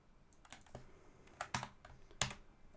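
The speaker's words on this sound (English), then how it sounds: "Type in my password" Password typed on a computer keyboard, a handful of faint, irregular key clicks with a couple of slightly sharper taps, quiet and close.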